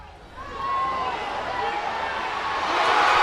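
A crowd roars at a schools rugby match between Trinity College and its rival, the sound swelling steadily into a broad, loud wash of cheering that builds toward the end.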